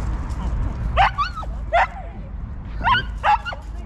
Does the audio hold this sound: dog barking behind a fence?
yes